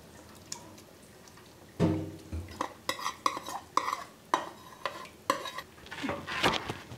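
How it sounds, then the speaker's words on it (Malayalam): Ladle stirring sago into a bubbling coconut flower payasam sweetened with jaggery syrup, a run of close, rhythmic scrapes against the pan with faint simmering underneath and no talk. "ചവ്വരി ചേർത്ത് കഴിഞ്ഞാൽ ഇളക്കിക്കൊണ്ടിരിക്കണം, ഇല്ലെങ്കിൽ അടി പിടിക്കും"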